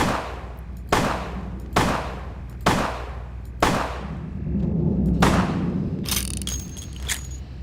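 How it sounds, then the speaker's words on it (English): Gunfire in the video game Vampire: The Masquerade – Bloodlines, five sharp, loud shots spaced about a second apart, followed by rumbling and a few quicker crackling bursts at the end. "Fine, I'll shoot them."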